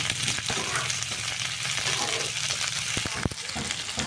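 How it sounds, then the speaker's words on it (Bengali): Capsicum and onion fry in oil over garlic paste for chilli paneer, a busy close sizzle with crackling spatters and a sharp clack or two from the pan, no talking. "রসুন বাটার উপর ক্যাপসিকামগুলি দিয়ে দেব সাথে সাথে পেঁয়াজগুলিকেও দিয়ে দেব"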